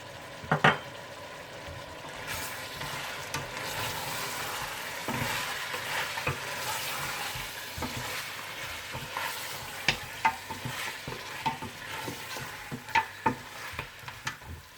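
Mutton sizzles steadily in a pan with salt, red chilli powder, coriander powder and cumin powder, stirred again and again with sharp scraping clicks over a continuous frying hiss, close and fairly loud.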